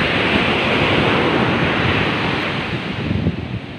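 Continuous roar of surf washing onto Gumaus Beach, with wind buffeting the microphone throughout and no voices.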